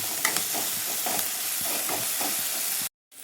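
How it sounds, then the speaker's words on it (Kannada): Vegetables stir-fried over a high flame for idli manchurian hiss and sizzle steadily in the pan, with faint scraping stirs repeating through the sound before it cuts off abruptly near the end. "ಹೈ ಫ್ಲೇಮಲ್ಲಿಟ್ಟು ನೀವು ಫ್ರೈ ಮಾಡಬೇಕು."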